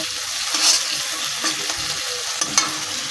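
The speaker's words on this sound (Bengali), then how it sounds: "ঢাকনা তুলে নিয়ে আমি নাড়াচাড়া করে নেব" Egg and poppy-seed masala is stirred in a pan after the lid comes off: a soft continuous sizzle with a few sharper spatula scrapes and taps, close and fairly quiet, with no talking.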